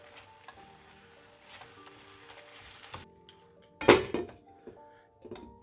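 Mushrooms fry in a pan with a steady sizzle while being stirred, followed by a loud clattering scrape and a few knocks of a utensil against the pan, close and alone without talking.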